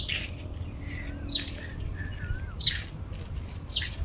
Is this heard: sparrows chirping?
yes